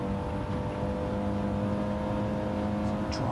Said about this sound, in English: That rumbly noise telling me that the tyre's gripping the road too much